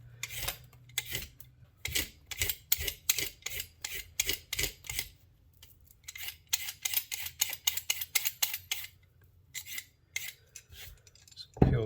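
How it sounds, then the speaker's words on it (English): A vegetable peeler scrapes down a carrot in quick, crisp strokes that come in rhythmic bursts separated by short pauses, close and fairly quiet. "so peel the carrot"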